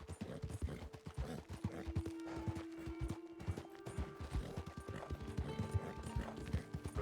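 A horse gallops in the video game Red Dead Redemption 2, with rhythmic hoof clip-clops close by, brief whinnying and mechanical tack rattles.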